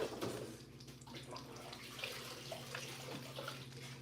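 Kitchen tap water runs steadily into a sink while dishes are washed, a soft continuous splashing stream heard at a distance, with no voices.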